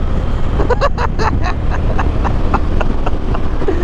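A 2021 KTM 1290 Super Adventure S motorcycle accelerating hard on a Scottish coast road, a loud steady engine roar with rising gear pulls, mixed with wind rush.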